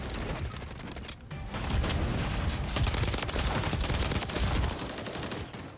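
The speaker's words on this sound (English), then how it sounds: "Were you just shooting there?" Gunfire in Call of Duty MW3 with a Pulemyot 762 loadout, a fairly quiet spread of rapid automatic shots and bursts running through most of the stretch without voices.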